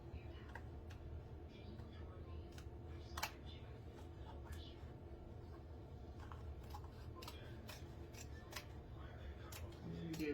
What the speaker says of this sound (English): I'm going to start cutting around